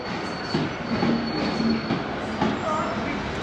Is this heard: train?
yes